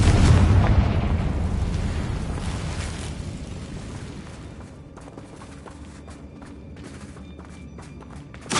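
A Confringo spell blast in Hogwarts Legacy: one loud booming explosion at the start that rumbles and slowly fades over several seconds, followed by faint scattered clatter and a small pop at the end.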